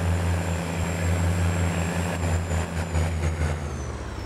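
A Massey Ferguson MF 7370 tractor with chip tuning, in the Farming Simulator game, gives a loud, steady engine roar with a deep low drone and a faint high whine, heard alone and close.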